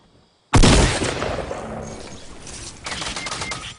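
Sudden burst of rapid minigun fire in Fortnite, a dense continuous rattle starting abruptly and sustained for several seconds, tapering slightly before a fresh surge near the end.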